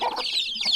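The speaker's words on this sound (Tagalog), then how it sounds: "Ayan mga sisiw natin" Young chicks on a farm cluck and chirp in a quick, close burst of bright peeping calls, lasting under a second with no voices.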